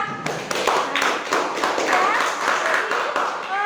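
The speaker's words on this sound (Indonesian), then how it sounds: "tepuk tangan buat kita semua" Classroom of students clapping together after a lesson on caring for the dead, a dense patter of hand claps running steadily throughout, with a voice briefly audible in the mix.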